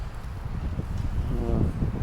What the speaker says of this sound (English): it's far too windy